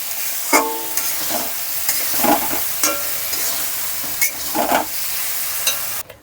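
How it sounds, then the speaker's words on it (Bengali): A spice paste is stirred in a pan with the gas turned off, making a run of close, rhythmic scraping strokes over a faint residual sizzle, ending abruptly. "খুব ভালো করে মিশিয়ে নিচ্ছি"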